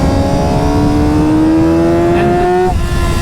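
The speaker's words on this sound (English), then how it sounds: "If you actually rev them enough, these bikes" Yamaha R6 600cc sport bike engine revving loud and close, a sustained buzzing note climbing steadily in pitch before abruptly dropping off near the end.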